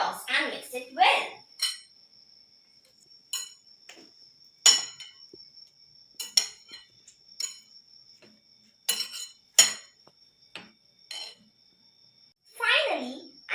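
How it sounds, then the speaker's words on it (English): Paneer salad being tossed and mixed in a bowl, intermittent clinks and scrapes of utensils against dishware in separate bursts, with someone speaking between them. "The final step is to give it all a good toss and mix it well."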